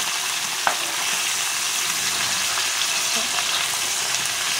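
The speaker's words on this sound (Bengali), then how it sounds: "এখন ঢেলাপাশা মাছগুলো আমি ভাজা করে নেব সুন্দর করে লাল লাল করে" Small dhela pesha fish fry in hot oil in a pan, giving a continuous bright sizzle and crackle with a few sharper pops, close up and without talk.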